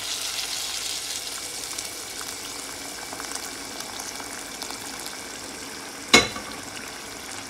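Steady broadband sizzle of buttery rice pilaf sautéing in a small pot as water is poured in, with one sharp brief burst near the end; no talking.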